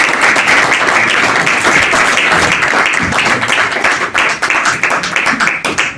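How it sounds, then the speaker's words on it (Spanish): Loud, sustained applause from a conference audience for a presenter, dense clapping that stays strong throughout and turns slightly more irregular toward the end. "Y les pido un aplauso para ella."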